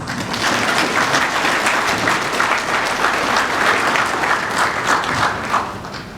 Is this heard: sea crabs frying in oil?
no